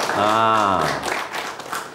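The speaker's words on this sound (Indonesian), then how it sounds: "Pak Awaludin, tepuk tangan dulu untuk beliau." A school gathering at SMK Negeri 2 Kayuagung applauds the acting head of the South Sumatra provincial education office. A voice speaks briefly at the start, then a short burst of crowd clapping fills the last second.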